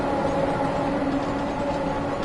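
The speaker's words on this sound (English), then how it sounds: "You can hear an underground train, but I can't see it" A London Underground train in Train Sim World 5 runs past on the North London Line, a steady, even rumble with faint tonal hum and mechanical clatter, continuous and unaccompanied by speech.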